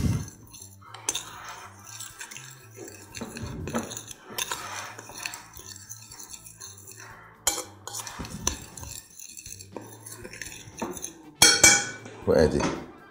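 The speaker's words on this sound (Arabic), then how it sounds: "وببدأ أقلبهم مع بعض" A spoon stirs semolina with a pinch of salt and cinnamon in a bowl, making intermittent scrapes and light clinks of metal against the dish, with bursts of louder knocking near the end.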